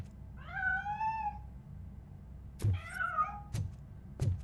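A cat meows in the video game Robocop: Rogue City on PS5: two clear, close wavering meows separated by a pause, with sharp footstep thuds and clanks between and after them over a low game ambience.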